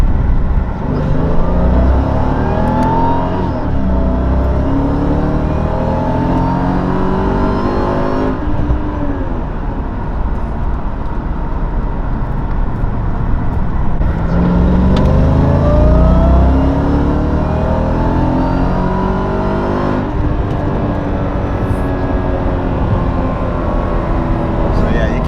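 A Mercedes M113K supercharged engine revs repeatedly in first gear in strong surges, rising and falling in pitch with a loud, steady drone between pulls, heard from inside the car.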